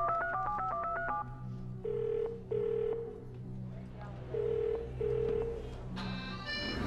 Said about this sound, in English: I'd like to phone a friend.